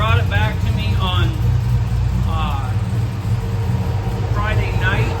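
The engine of a 1955 Chevrolet resto mod with aluminum heads and long tube headers runs steadily in a deep, loud rumble, while people talk over it now and then.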